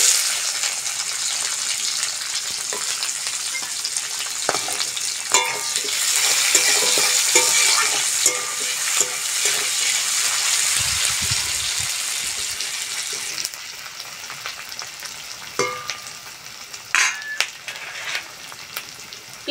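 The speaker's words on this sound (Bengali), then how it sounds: "তেলের মধ্যে আমি পেঁয়াজ দুটো দিয়ে দেবো" Two onions frying in hot oil for a Bengali fish curry, a loud, continuous hissing sizzle with occasional stirring scrapes and clanks, close up and without talk throughout.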